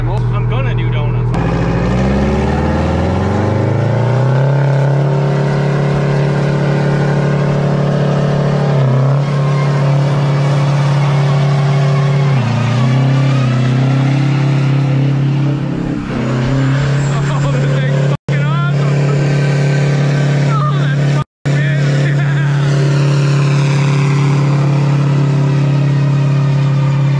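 Detroit-powered K-Whopper race truck doing donuts, its loud engine droning close and steady with repeated rising revs and pitch swings, brief cut-outs near the end, and a voice talking over it.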